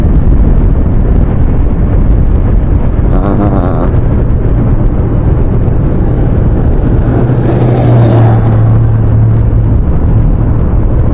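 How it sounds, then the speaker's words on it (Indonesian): A truck rolls along a steep mountain road, its low engine drone rising and falling beneath loud, constant wind buffeting. A brief higher whine comes in partway through. "Ngedeng mobil truk mah."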